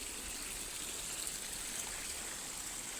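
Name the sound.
water flowing from drip irrigation pipe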